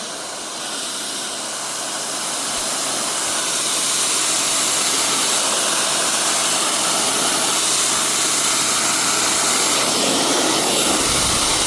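A stainless steel pressure washer sprays a slate roofing sheet with a loud, steady hiss of water jet and motor that swells slightly early on and then holds constant, with no talking.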